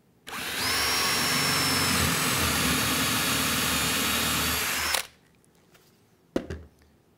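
A power drill bores a hole into wood through a drill guide, giving a loud, steady high whine for about five seconds before spinning down, followed by a single sharp knock.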